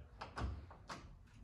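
A door being shut with a strap placed in its frame, heard as a few soft, close thumps and knocks within a short, quiet moment.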